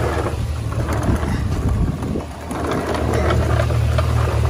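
A 2005 GMC Yukon Denali on a road test after a rear oil seal and transmission job, giving a steady, loud rumble of engine and road noise with wind buffeting throughout and a short dip midway; no one speaks.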